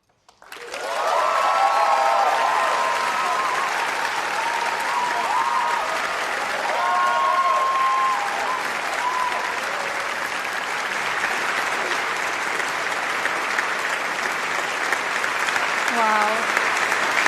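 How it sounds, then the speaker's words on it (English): Sustained audience applause fills a large hall at a games awards ceremony after a live performance, dense clapping and crowd noise holding steady for many seconds with faint tonal music or voice fragments underneath. "Another round of applause."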